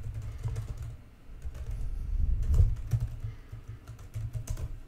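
Fingers type on a computer keyboard in a steady patter of close key clicks, with a brief pause near the start and no talking.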